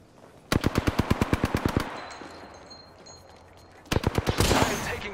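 Automatic gunfire in the battle-royale video game Apex Legends: a rapid burst of about a dozen evenly spaced shots, a short lull, then a second burst, all loud and close.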